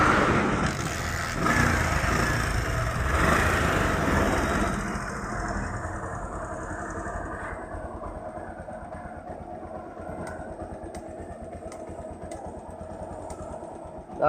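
An old-model Honda CT100 motorcycle with dead lights and a flat battery idles steadily up close, a loud engine rumble at first that settles into a constant lower running hum.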